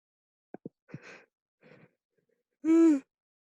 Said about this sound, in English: I don't know what I have with this, with these yawns